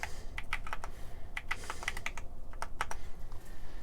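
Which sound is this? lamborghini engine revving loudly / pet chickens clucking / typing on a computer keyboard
typing on a computer keyboard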